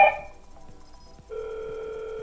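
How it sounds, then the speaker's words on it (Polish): A phone rings with an incoming Hik-Connect video call from a Hikvision DS-KH6320-WTE2 video intercom, a steady electronic ring tone that starts after a short beep. "Telefon dzwoni, jest nazwa Hit Connect, Hit Connect, Video."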